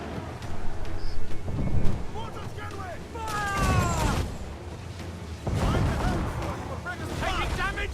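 Booming thunder and cannon blasts roll through a naval storm in Assassin's Creed 4 Black Flag, with heavy low rumbles, crackling impacts and wind, mixed under shouted game dialogue and a talking player.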